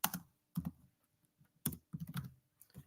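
Quiet computer keyboard typing comes in short clustered bursts of clicks separated by brief pauses, close and dry, with no talk.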